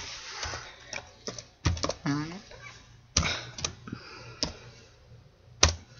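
Typing on a computer keyboard while setting up a Minecraft PE skin: scattered bursts of close key clicks, irregular and sparse, with someone talking over them.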